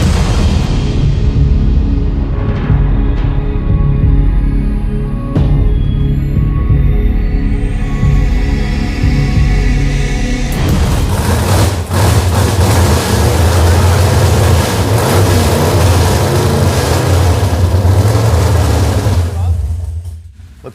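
A car engine fired up on the Roadkill Garage retro revival build runs loud and close, its throttle worked by hand so the revs rise and surge in a heavy, rumbling roar that grows rougher partway through, with people talking over it.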